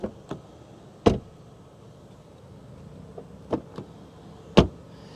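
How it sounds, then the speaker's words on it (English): Doors of a 2023 BMW 330i being opened and shut, several distinct solid thuds and latch clicks spaced a second or so apart, close by over a quiet background. "open and close the doors. Let's listen and see what it sounds like."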